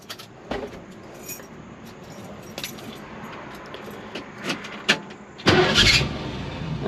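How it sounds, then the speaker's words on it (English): A 1966 Ford Mustang starts up after keys jangle and click in the ignition, the engine catching with a loud burst near the end, close and without talking. "It starts right up."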